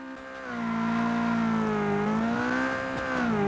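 An all-wheel-drive sports sedan launches on pavement with stability control off, its engine holding a loud, steady high-revving drone that rises and dips slightly, close up and with no talking.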